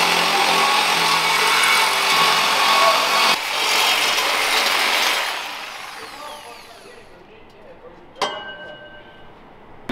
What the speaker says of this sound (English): I have to recut the exhaust here so I can pull the unit back